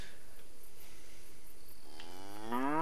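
Cattle mooing in the medieval role-playing game Kingdom Come: Deliverance, a low harmonic moo rising near the end of the clip over a steady rustling, insect-like background, with no talk.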